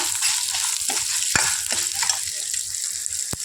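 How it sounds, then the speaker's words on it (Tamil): Small onions and grated coconut frying in a pan, a continuous bright sizzle broken by occasional sharp clicks and scrapes of stirring, with no talking. "இது நல்லா வாசம் வர அளவுக்கு நல்லா பொன்னிறமாக வணக்கி எடுத்துடணும்"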